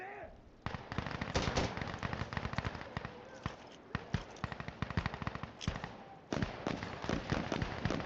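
A P90 submachine gun fires in Insurgency Sandstorm in dense, rapid bursts of sharp shots with brief pauses, loud and steady throughout.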